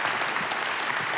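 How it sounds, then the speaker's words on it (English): Audience applauding a panel at a justice-themed talk event, a short, continuous burst of many people clapping, even and close, filling the moment without voices. "please give a round of applause to this incredible panel"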